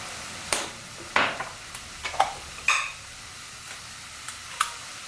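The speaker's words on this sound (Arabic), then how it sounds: "صافي هنا غنخلط المكونات كامله مع بعضياتها" A spoon stirs an onion, garlic and spice filling in a pan, making a series of quiet, separate scraping strokes at uneven intervals with no talking.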